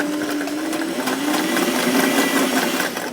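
A sewing machine stitches white-on-white fabric along a sleeve hem, a close, steady motor whir with a fast rhythmic needle clatter running without a break.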